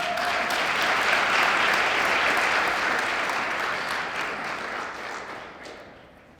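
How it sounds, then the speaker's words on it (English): Audience applause at a Black History Month celebration in 2022, steady and full across the room from the start, then gradually thinning and fading toward the end. "so can you. Give her another hand."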